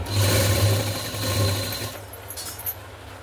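A sewing machine stitches a piping strip onto a blouse neckline, its motor whirring in a fast steady hum for about two seconds before stopping, leaving faint handling clicks and rustle.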